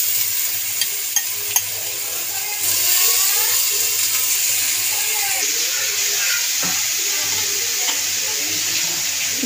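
Grated beetroot and carrot hitting hot oil in a frying pan with ginger, green chilli paste, five-spice and dry chilli, a sudden loud hissing sizzle that then holds steady, with a few clinks and stirring scrapes.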